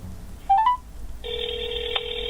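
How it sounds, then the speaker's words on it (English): Phone call ringing through a Doogee D11 smartwatch speaker, a brief rising chirp followed by a steady electronic ring tone that holds on, thin and tinny, with no voices. "let's see if we can make a phone call on this and hear what it sounds like on this phone."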